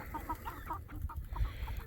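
Young rooster and other chickens on a Kansas ranch, a run of steady close clucks and short calls over a low outdoor rumble; no full crow stands out.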